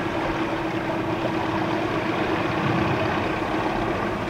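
A boat's engine gives a steady low drone with a constant hum, rumbling evenly throughout without any change in pitch or loudness.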